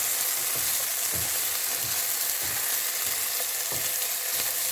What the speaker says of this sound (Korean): 소금을 지금가지고 바로 이렇게 볶아요